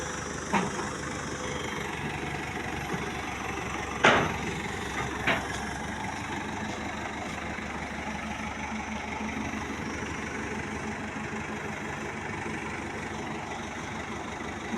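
A tractor engine idles low and steady without pause throughout, with a few short knocks and clanks rising above the rumble near the start.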